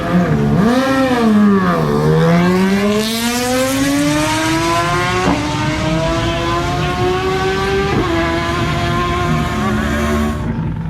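Superbike motorcycles rev up and pull away at the start of an Isle of Man TT practice session, a loud, close engine wail rising in pitch through several gear changes and fading out at the end.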